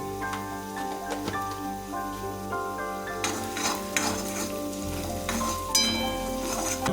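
Onions frying in a kadai with a little salt, for a home-style Bengali potol chingri (pointed gourd with prawns), giving a steady close sizzle with occasional stirring scrapes and light clinks of a utensil against the pan.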